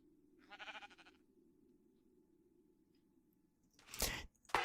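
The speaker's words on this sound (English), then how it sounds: "Oh, my sheep." Minecraft sheep bleat twice against near silence, one short wavering bleat early on and a louder, harsher bleat near the end.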